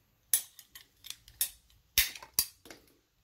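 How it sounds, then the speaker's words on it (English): PEX plastic piping is cut with a cutter during a relief drain pipe install, giving a handful of crisp, close snips and clicks in an uneven rhythm, fairly quiet, with two louder bites near the end and no talking. "we're going to cut this PEX piping"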